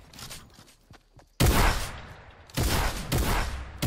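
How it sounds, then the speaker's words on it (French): Video game gunfire in a John Wick–style mode arrives as loud bursts of rapid shots. Sparse cracks come first, then a sudden heavy volley and two more dense bursts close by, with no talking. "Ah, ça me tire dessus."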